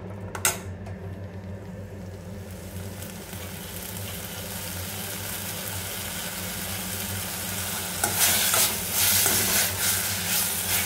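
Coriander stems fry in a pan with a steady low sizzle, brief stirring scrapes near the start, and louder bursts of sizzling toward the end as the stems are moved.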